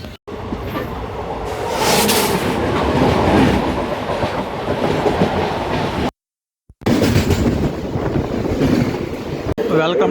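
The Pinakini Express rolls along steadily with a continuous rumble and rhythmic clickety-clack under wind noise, cutting out briefly to silence partway through before resuming.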